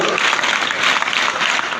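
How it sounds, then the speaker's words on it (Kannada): An audience claps to welcome a retiring headmaster onto the stage at his school farewell in Ramdurg, a dense, even burst of applause that holds steady throughout. "ಚಪ್ಪಾಳೆಯ ಮೂಲಕ ಅವರನ್ನು ತುಂಬ ಹೃದಯದ ವೇದಿಕೆಗೆ ನಾವೆಲ್ಲ ಸ್ವಾಗತಿಸೋಣ"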